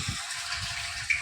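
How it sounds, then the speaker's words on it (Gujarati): Water gushes steadily into a tank, a continuous hollow rushing with a brief louder splash near the end. "જો આમાં પાણી આવે જો"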